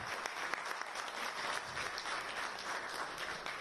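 A conference audience at the Indian Chamber of Commerce in Mumbai gives Shri Piyush Goyal a round of applause, dense even clapping sustained throughout, fairly quiet and without speech over it.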